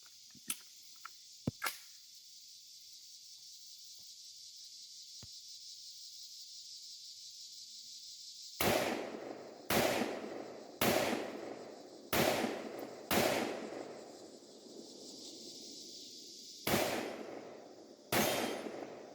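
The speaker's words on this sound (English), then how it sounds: "I'm just going to rip off some rounds, show you some fireballs" Rifle shots from a BCA 7.5-inch AR upper fired at steel targets and a bowling pin outdoors: a few sharp cracks early, then a string of loud, spaced reports, each followed by a decaying echo.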